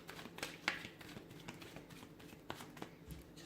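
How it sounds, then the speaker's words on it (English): A deck of tarot cards is shuffled softly at close range, a quiet run of riffling and flicking with a few sharper snaps, with no talk. "Let me give the cards a shuffle here."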